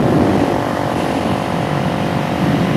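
Suzuki DRZ motorcycle ridden in cold weather, a steady loud engine drone with wind rush throughout, close and continuous with no voice.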